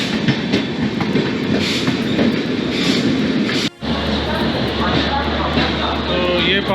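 An Indian passenger express train rolling into Kanpur Junction, with loud, continuous rumble and clattering wheels on track and a brief dropout midway, while a voice is faintly present.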